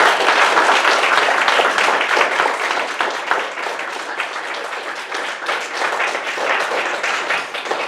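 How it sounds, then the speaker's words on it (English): An audience at a school board meeting breaks into loud, sustained applause, a dense wash of many hands clapping that holds steady for several seconds before easing slightly. "they deserve a big round of applause"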